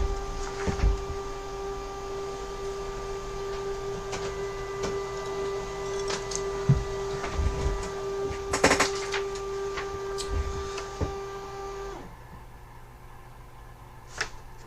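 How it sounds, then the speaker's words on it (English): A label printer feeds and prints a photo ID tag for lockout use, with a steady mechanical whir and hum running for about twelve seconds and a few small clicks along the way, then it stops abruptly. "Printing now."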